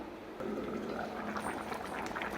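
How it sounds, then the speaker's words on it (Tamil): A pot of Tamil broad bean and eggplant curry bubbling steadily at a simmer, soft gurgles and pops over a constant low wash of liquid noise. "குழம்பு நல்லா கொதிக்க ஆரம்பிச்சிருச்சு."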